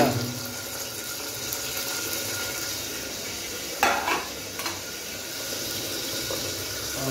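Chopped tomatoes go into a pan of fried onions, setting off a soft, steady sizzle with a brief clatter as they land and a few stirring scrapes, heard close and fairly quiet.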